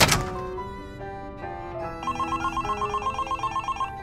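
A telephone rings in a festive Christmas scene, opening with a sharp thunk and then a bright electronic ringtone that repeats in a steady pulsing trill, loud and close, with no voices over it.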